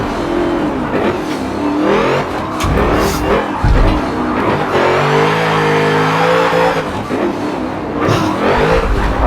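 A flat-six race car in the Forza racing game roars loudly and steadily, its engine note rising and falling as the tires squeal and skid through corners, with no talking.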